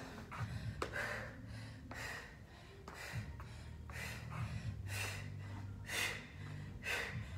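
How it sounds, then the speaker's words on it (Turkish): Heavy, rhythmic breathing after a set of jump rope exercise, with repeated sharp inhales and exhales close to the microphone, no words spoken. "Nefes alıp verirken bana eşlik et."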